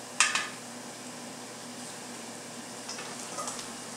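Ground pork sizzling in a hot pan during a cooking demo: a steady, soft frying hiss with a sharp clink of a utensil near the start and faint stirring toward the end.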